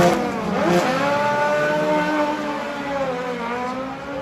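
Supercars race engines with 1300cc power units screaming at 11,000 RPM, loud sustained high-pitched wail with shifting overlapping tones as cars pass nearby, no voices.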